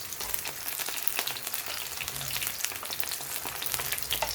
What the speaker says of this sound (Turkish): Ama ben iki yüzünü de kızartıyorum böyle.